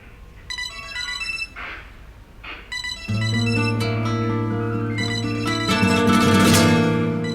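A mobile phone ringtone plays a bright repeating electronic melody, loud and close, swelling fuller partway through and continuing steadily.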